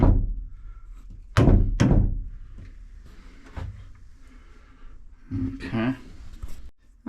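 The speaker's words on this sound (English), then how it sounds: "It's kind of hard to slide that on, but we'll see if we can tap it into place." Sharp knocks from a part being tapped into place on a bathroom fixture during a renovation, two loud close thunks near the start and then softer taps, with a voice talking.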